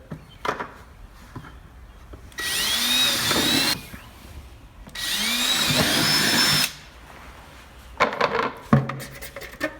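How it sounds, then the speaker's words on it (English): A power drill whirs in two sustained bursts of a few seconds each, drilling holes in a large plastic bucket, with scraping and handling clatter before, between, and after. "So then you could always drill a hole higher."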